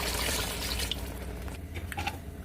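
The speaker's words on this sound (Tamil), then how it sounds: "ஒரு டம்ளர் அரிசிக்கு ரெண்டு டம்ளர் தண்ணி ஊற்றிக்கலாம்" Water is poured into rice in a clay pot for chicken dum biryani, two tumblers of water for each tumbler of rice, making a close, continuous splashing rush that thins out into lighter trickles and drips.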